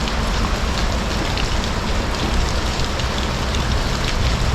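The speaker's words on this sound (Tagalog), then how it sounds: "Basta ulan ngayon." Heavy rain pours outdoors by a river, a dense, steady hiss of drops on surfaces filling the whole stretch, close and loud with no voices.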